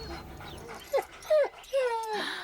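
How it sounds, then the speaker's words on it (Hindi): Dogs set loose bark and yelp close by in a dubbed Telugu action film: three or four sharp, rising barks in quick succession, loud and clear over a quiet background. "इसके पीछे कुत्ते छोड़ो।"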